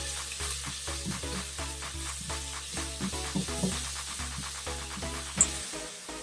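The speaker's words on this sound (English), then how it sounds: "just added some oil and I'm gonna add onions. I'm going to saute them for 2 to 3 minutes." Onions sauté in hot oil in a pan for a chicken dum biryani, giving a steady soft sizzle broken by repeated stirring scrapes, heard up close with no talking.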